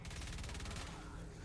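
Rapid automatic weapon fire from the Swan in Fortnite Save the World, a quick burst of evenly spaced shots lasting over a second, fairly faint.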